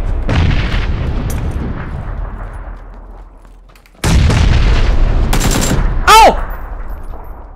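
Close, loud PUBG gunfire: a burst of shots that fades out, then another sharp volley after a pause, capped by a ricochet-like whine, with a player briefly exclaiming.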